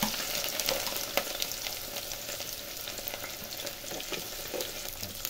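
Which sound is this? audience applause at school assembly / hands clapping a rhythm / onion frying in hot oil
onion frying in hot oil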